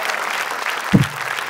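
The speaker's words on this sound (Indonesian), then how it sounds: "Yang penting asik siang-siang ini tepuk tangan dulu dong." A stand-up comedy audience at an Indra Frimawan show roasting Indro Warkop claps in a steady, dense round of applause, with one brief low thump near the end.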